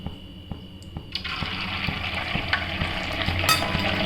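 A small sabudana vada dropped into heating oil sets off a sudden sizzle after a quiet start with faint taps, and the frying hiss then keeps building steadily.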